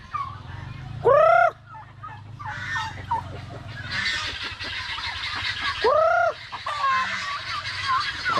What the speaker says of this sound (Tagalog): Natunugan sa mga lalaki nating pabo na galing doon sa kabilang bakod.